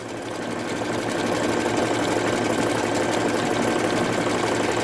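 A sewing machine runs continuously at a fast, even pace close by, stitching a patch over a hole in a pair of jeans, its rapid mechanical chatter steady and unbroken.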